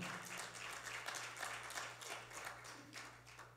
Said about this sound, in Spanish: démosle otro fuerte aplauso al Señor